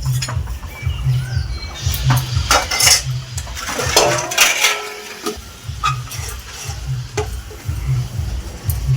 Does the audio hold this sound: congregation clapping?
no